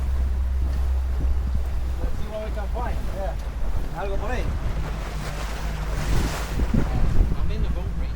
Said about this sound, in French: on est en train de se promener sur le canal de Panama en bateau